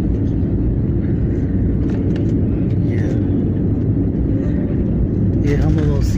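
IndiGo flight 6E-6311 airliner rolls out after touching down at Lucknow's Amausi airport, giving a steady, loud cabin roar and rumble, with a few brief clicks and faint voices near the end.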